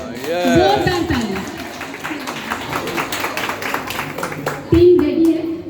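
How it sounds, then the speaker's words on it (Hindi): An audience at a national group song competition claps for the team, a lively burst of many hands clapping at close range, with voices speaking at the start and again near the end. "तो मैं चाहूंगी हमारी पूरी टीम के लिए आप लोग जोरदार ताली दें"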